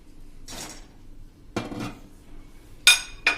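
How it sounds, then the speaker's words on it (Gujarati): Handvo batter with oil and spices is stirred in a bowl with a spoon, giving a few short scraping and clinking strokes that are close and quiet, separated by pauses. "હવે આ બધું આપણે મિક્સ કરી લેશું"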